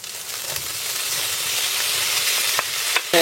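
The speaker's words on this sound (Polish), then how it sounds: "Zaczynam smażyć już kiełbasę" Sliced sausage and bacon sizzle in a hot pan, a steady, dense crackling hiss close up with occasional brief stirring clatter and no talking.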